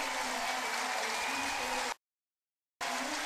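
A crowd at the 2011 European dressage championship in Rotterdam, during a freestyle test, roars and applauds in a dense, continuous wash of clapping and cheers. The noise is interrupted by a short silent gap.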